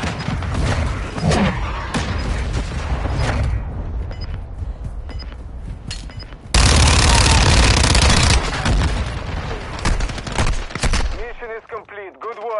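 Call of Duty MW2 battle with heavy gunfire and a sudden loud cruise missile impact rumbling for a couple of seconds, then more scattered shots as a voice speaks at the close.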